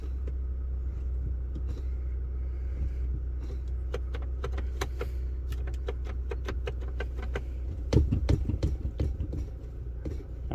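A 2018 Ford F150 engine idles with a low steady rumble, with faint clicks and ticks near the cab and a brief louder bump toward the end.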